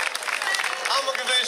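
A crowd at a neighbourhood community event gives brief, light applause with scattered claps, while voices talk over it nearby.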